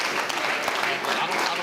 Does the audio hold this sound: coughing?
no